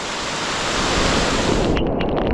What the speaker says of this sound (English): the wind's picking up. You're probably going to get a lot of wind noise on the camera